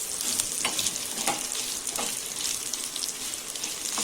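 Red chilies frying in a pan, a steady hissing sizzle with scattered small pops and crackles, close up with no talking.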